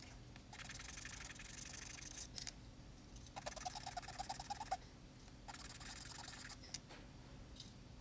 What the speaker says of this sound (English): I'll just give these ends a quick sand